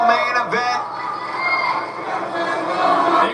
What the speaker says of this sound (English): And the crowd here in Manhattan in the Hammerstein Ballroom